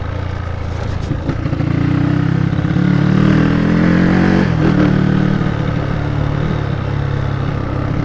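237cc motorcycle fitted with a Koso 32mm carburetor accelerating hard. The engine note rises steadily and loudly through the gears, with a brief dip mid-run before it pulls again, heard up close with no talk over it.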